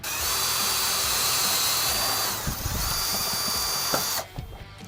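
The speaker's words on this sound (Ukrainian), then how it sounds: "І тепер потрібно виконати отвори у посередині у цій і у цій частині." A power drill boring holes through wooden bars for a homemade fruit picker, a sustained high whine for a few seconds that dips and resumes before cutting off.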